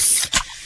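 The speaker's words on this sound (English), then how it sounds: "that's the sound of a freshly opened fizz-filled Pepsi" A freshly opened can of Pepsi fizzing, a short bright hiss of carbonation with a brief burst near the end, close and fairly loud with no talk.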